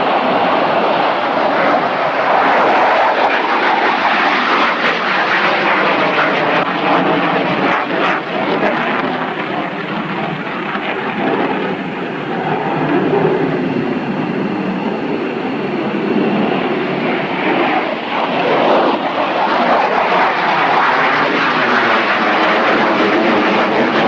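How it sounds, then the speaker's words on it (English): An F-15 Eagle fighter jet's engines roar loudly and continuously, a dense broad wash of sound that holds steady with slight swells throughout. "This is an F-15 Eagle, and it's a magnificent machine"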